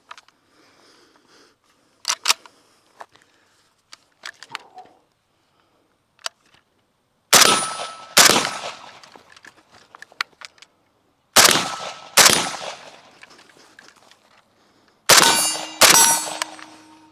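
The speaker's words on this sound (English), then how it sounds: "I'll take a few shots from this stance" An AK47 rifle fires single shots at an outdoor range, four sharp loud cracks spaced several seconds apart, each ringing with a metallic echo, with fainter clicks and handling noises in between and no talk.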